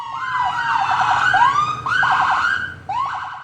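Emergency vehicle siren wailing loudly and close, its rising and falling sweeps repeating continuously with a brief break before a fresh wail starts.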